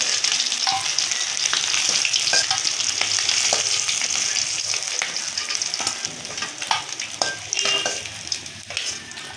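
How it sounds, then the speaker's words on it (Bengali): Fish frying in hot mustard oil in a kadai: a loud, steady sizzle and crackle running throughout, with occasional sharper pops and spatters and no voices. "মাছগুলো লাল লাল করে ভেজে নিলাম"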